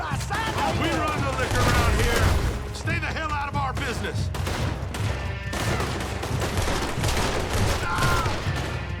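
A video game shootout with heavy, overlapping gunfire and booms mixed with shouting voices throughout, loud and chaotic with no clear pauses.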